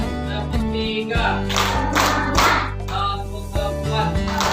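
A group clapping together in a set rhythmic pattern, the third of a counted series of clap routines, with a few sharp bursts of claps over a room filled with a sustained musical tone.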